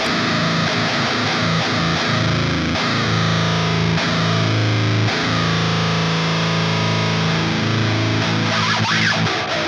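Electric guitar played through a Boss Metal Zone distortion pedal, with thick, buzzing sustained chords and choppy palm-muted riffs, loud and continuous.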